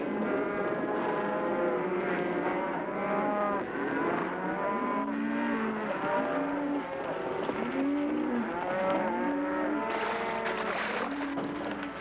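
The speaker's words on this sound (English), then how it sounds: "run him into the river. That'll stop the stampede." A large herd of cattle lowing and mooing continuously over a rumbling, windy background, many animals calling at once.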